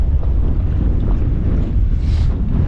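Cold wind blows outdoors in Lapland, buffeting the microphone in a steady, loud, low rumble that lasts the whole moment with no voices.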